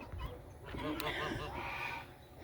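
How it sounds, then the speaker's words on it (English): Chickens cluck and murmur softly beneath a chicken coop on a freezing winter day, a brief close cluster of low fowl calls with faint background noise. "And you see all the chickens are underneath the chicken coop, staying warm in there."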